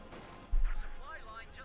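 A grenade bursting in the World War II strategy game Company of Heroes 2, blowing apart an outhouse: a single short, low thump over quieter background battle noise while a commentator talks.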